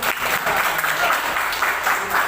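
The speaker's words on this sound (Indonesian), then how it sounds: "Berikan tepuk tangan dong." Classroom applause from students during a lesson, a steady brief patter of clapping lasting a couple of seconds at moderate loudness with no voices over it.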